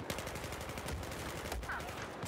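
Rapid, continuous gunfire from Battlefield 4 in Rush mode rattles in dense bursts, steady and fairly loud, without talk.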